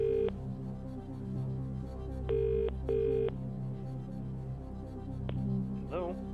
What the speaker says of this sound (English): Who are you going to phone? Phil Williams.